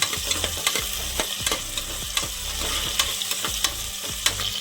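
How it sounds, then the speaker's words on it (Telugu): Cut potatoes fry in a pan under brisk, repeated stirring, with quick scraping clicks over a constant close sizzle. "ఫస్ట్ మనం కట్ చేసుకున్న పొటాటోస్ని వేసుకుందాం. దీన్ని బాగా కలుపుకోవాలండి."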